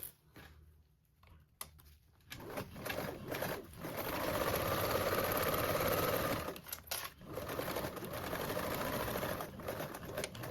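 A sewing machine basting a toiletry bag seam runs in short, steady bursts, whirring close by between brief pauses. No one talks.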